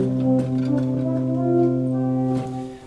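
A pipe organ's Chorale Bass 4 foot stop sounding a steady held tone with a stack of bright, even harmonics, sustained for nearly three seconds and cutting off near the end.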